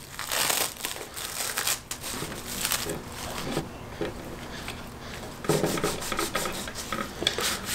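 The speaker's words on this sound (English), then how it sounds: "So the forks have been soaking overnight, and now it's time to unwrap it." Plastic wrapping being peeled and crinkled off mountain bike forks that soaked overnight during a ten-year-old MTB restoration, a close, continuous rustling and rubbing with bursts of louder crumpling.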